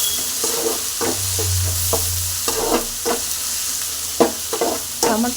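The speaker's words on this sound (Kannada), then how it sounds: "ಕಟ್ ಮಾಡಿರುವಂಥ ಒಂದು ಟೊಮಾಟೊ, ಟೊಮಾಟೊನ ಹಾಕ್ಕೊಂಡಿದ್ದೀನಿ. ಮತ್ತು ಫ್ರೈನ ಮಾಡ್ಕೊತೀನಿ." Chopped tomato fries in a pan for egg rice, a steady close sizzle broken by repeated scraping stirs of a spatula against the pan at an uneven rhythm.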